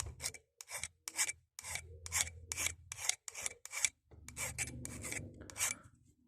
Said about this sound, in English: take a file and just file them off